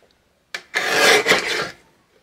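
A blade slices through paper card mat stock in one quick rasping stroke lasting about a second, close and crisp, with a short tap before it and quiet after.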